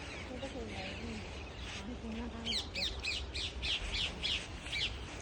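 A parrot squawks in a rapid series of harsh, shrill calls that grow louder and more frequent midway, while people talk nearby in a market.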